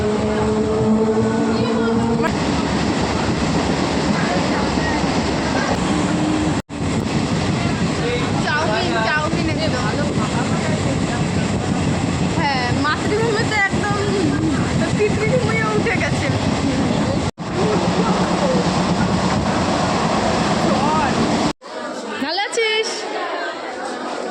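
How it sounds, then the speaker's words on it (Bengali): A steady, loud rumble of a moving, nearly empty passenger train carriage continues throughout, with people talking over it and a brief drop in noise near the end. "পরীক্ষার সময় আমরা ফাঁকা ট্রেনে যাচ্ছি"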